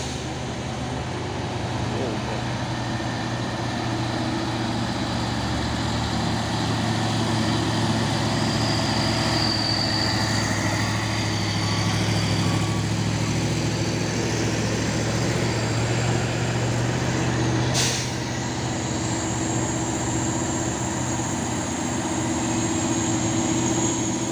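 Fuso trucks, one of them a Fuso tanker truck, run with a steady low engine drone and idling rumble, continuous and fairly near, with indistinct voices mixed in.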